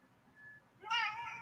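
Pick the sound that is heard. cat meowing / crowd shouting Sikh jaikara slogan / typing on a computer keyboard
cat meowing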